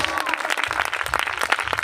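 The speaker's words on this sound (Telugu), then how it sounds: "ఒకసారి అందరూ చప్పట్లు కొడదాం." A congregation at a prayer meeting breaks into short, lively clapping, with individual claps audible within the burst and a voice faintly mixed in.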